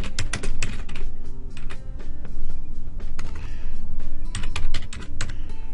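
Company name being typed on a computer keyboard during a software installation, with a steady run of close, crisp key clicks, brief pauses between bursts and no speech.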